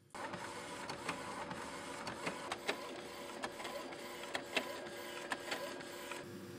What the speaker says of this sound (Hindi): तो इस पे प्रिंट करते हैं हम, मिरर इमेज में प्रिंट कर रहा हूँ इसके ऊपर